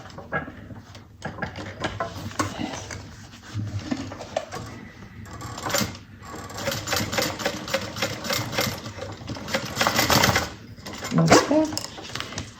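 A sewing machine top stitching a fabric bucket bag, running in bursts of rapid mechanical stitching with brief pauses and handling noise between runs, close and moderately loud.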